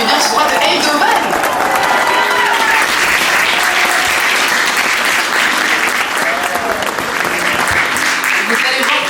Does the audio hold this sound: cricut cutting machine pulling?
no